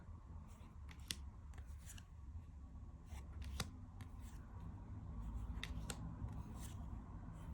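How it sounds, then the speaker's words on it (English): Scissors snip the borders off small tarot cards, quiet close-up cuts in irregular bursts with soft paper rustling and handling between snips, no talk. "cutting the borders off."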